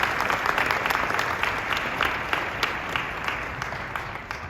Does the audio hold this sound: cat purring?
no